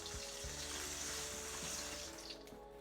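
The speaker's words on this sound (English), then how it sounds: "Okay, so the water is boiling now. I'm going to go ahead and dump the pasta in." Steady rushing, bubbling water noise with a low rumble and a soft splash near the end, like pasta dropped into a boiling pot.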